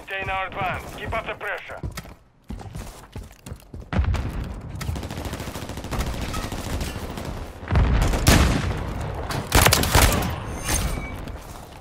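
Call of Duty MW3 firefight with repeated gunfire bursts and heavy booming impacts, loud and near, the shooting swelling in waves while voices talk over the action.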